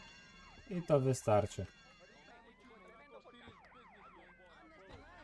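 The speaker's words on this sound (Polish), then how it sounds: "Bierzemy radiowóz" A police car siren in Grand Theft Auto: Vice City wails in repeated rising and falling sweeps at moderate distance, following a brief burst of speech at the start.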